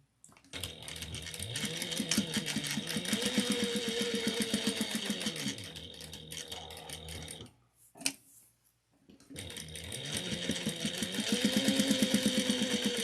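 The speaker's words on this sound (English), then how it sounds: "Now we're going to go around and sew this at 1/8 of an inch." A sewing machine stitches fabric at a one-eighth-inch seam in two sustained runs of rapid mechanical whirring, its speed rising and falling, broken by a short pause with a single click before it starts again.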